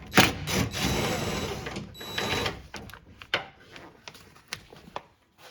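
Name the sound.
power tool removing 10mm window regulator bolts, Toyota Tundra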